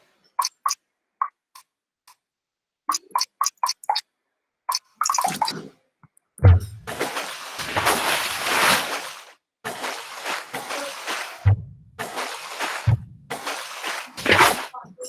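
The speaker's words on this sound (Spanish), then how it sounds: "Aquí tenemos una percusión hecha de agua." Water percussion: sharp, rhythmic wet clicks and taps struck in a quick pattern, followed by denser bursts of splashing, sloshing strokes with brief pauses between, close and fairly loud.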